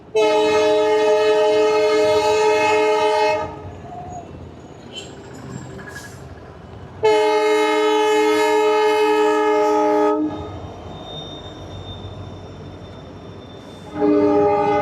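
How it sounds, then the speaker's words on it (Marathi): A train horn blares in long, loud blasts, three times with gaps between, over the rumble of a passing train. "ट्रेन आली ट्रेन आली ट्रेन आली."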